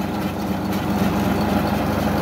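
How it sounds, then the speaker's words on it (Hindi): A tractor pulling a peanut digger machine through a field at low speed gives a steady, loud low-pitched engine drone with a continuous rumble and no break, and no voices over it. "ये बिल्कुल लो स्पीड में ट्रैक्टर चलता है"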